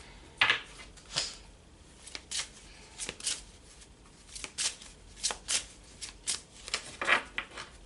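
A deck of tarot cards being shuffled by hand, a series of short riffling bursts and soft slaps at an uneven rhythm, close and fairly quiet, with no talk.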